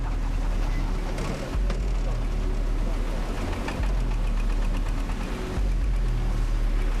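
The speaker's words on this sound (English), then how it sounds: "We're all packed into tractors, making our way down. It's raining, roads are flooded out. We're just having to kind of go through the water." Tractors carrying passengers drive through flooded road water in the rain, a loud steady engine rumble with sloshing water noise throughout.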